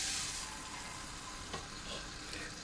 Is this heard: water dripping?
no